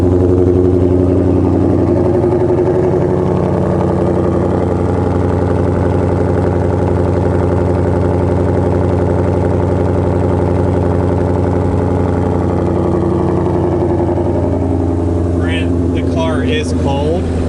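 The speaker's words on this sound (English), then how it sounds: "This is a very loud car." A 2021 Ford GT500 Carbon Fiber Track Pack idles in normal mode, a loud, steady low rumble that holds evenly throughout, with a brief faint rattle near the end.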